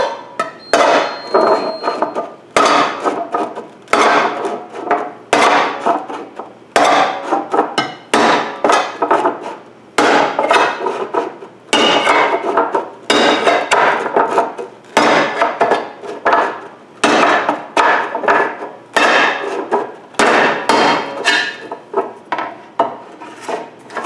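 Repeated sharp metallic knocks as holes are punched into a metal can with a hammer, coming in irregular bursts of blows close by for over twenty seconds, with no speech.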